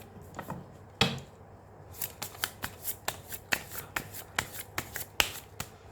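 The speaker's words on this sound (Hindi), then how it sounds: "बहुत सारा कार्ड्स नहीं लूँगी एक साथ में।" Tarot cards are shuffled by hand nearby, producing quick crisp riffling snaps and flicks in an irregular rapid series, quiet and without talk.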